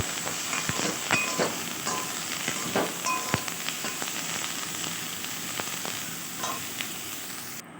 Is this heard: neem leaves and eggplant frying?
yes